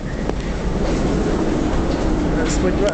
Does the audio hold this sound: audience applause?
no